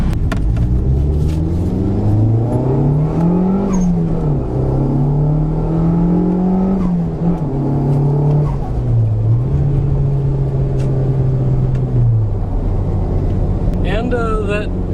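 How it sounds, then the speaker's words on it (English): A Nissan Pulsar GTI-R with its turbocharged SR20DET four-cylinder and four-wheel drive is driven, heard from inside as a loud, steady engine drone that climbs and falls through gear changes across the whole stretch. "that beautiful SR20 DET and four-wheel drive, as you can hear, performs exceptionally well"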